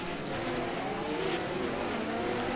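A field of 1979 Formula 1 cars in the rFactor 2 racing game pulls away at the start of a warm-up lap at Kyalami, a steady, fairly quiet engine drone that holds throughout.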